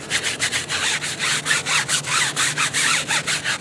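A dirty tire coated in degreaser is scrubbed by hand, producing loud, close, rhythmic back-and-forth rubbing strokes in a fast, steady cadence.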